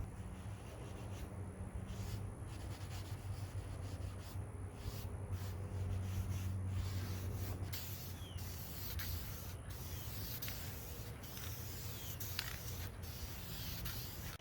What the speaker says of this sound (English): I'm taking gray Scotch-Brite, trying to blend that blemish in with light coats